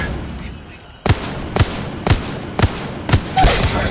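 Gunfire in the mobile battle royale game Apex Legends Mobile: five sharp, loud shots spaced about half a second apart, each with a brief ringing tail, ending in a denser burst of fire.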